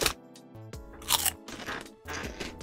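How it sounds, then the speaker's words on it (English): Close, crisp crunching on honey mustard pork rinds: several sharp bites followed by bursts of crackly chewing, heard alone with no talk. "That one has some good crunch to it."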